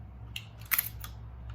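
A Polaroid 100B camera fitted with an Instax Wide back fires its shutter with a single quiet mechanical click, followed by a couple of faint ticks in a quiet room.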